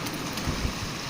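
Light rain falls in a steady, soft hiss with faint low rumbles underneath, a calm and continuous wash at moderate distance with no voices.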